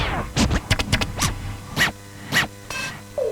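A string of quick, sweeping scratch sounds from a Yamaha SeqTrak drum machine through reverse reverb, rising and falling pitch, electronic and close, with a reverb tail between bursts.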